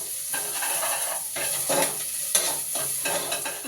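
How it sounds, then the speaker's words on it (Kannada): Ginger garlic paste fries in a hot pan with a continuous close sizzle, broken by periodic scraping stirs of a spatula and no voices. "ಸ್ಮೆಲ್ ಹೋಗೋ ತನಕ ಚೆನ್ನಾಗಿ ಫ್ರೈ ಮಾಡ್ತಾಯಿದ್ದೀನಿ"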